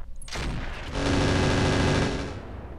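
Mech weapons in Roguetech, a BattleTech game, fire a loud, sustained rapid burst lasting about a second, preceded by a short sharp report, then the roar tails off.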